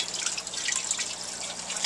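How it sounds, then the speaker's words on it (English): Water scooped from a home fish tank setup drips and trickles back down, a quiet, close patter of small irregular drops over a faint steady hiss. "scoop the water"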